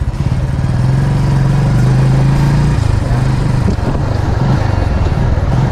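A motorcycle carries riders along a road after rain and through a crossing, its engine a close, steady, buzzing drone that continues throughout with slight clatter.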